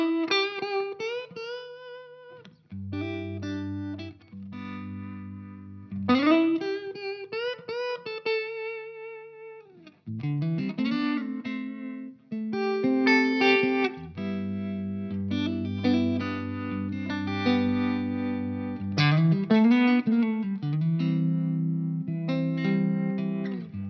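Electric guitar with a tremolo effect on, played through a Two Rock amp in a classic style, clear sustained notes and chords throughout with pulsing volume and no talking.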